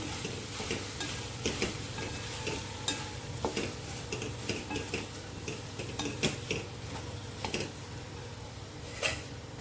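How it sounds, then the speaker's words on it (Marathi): Chopped potatoes for a Marathi batata bhaji are stirred in a frying pan with a soft, steady sizzle, while a spatula scrapes and taps the pan in irregular clicks throughout, close and clear with no talking. "आता ह्याच्यावर हे कापून ठेवलेले सर्व बटाटे टाकायचे आणि मिक्स करून घ्यायचे"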